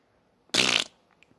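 A single loud fart lasting about a third of a second, close and dry, with brief faint noises afterward and no talking over it.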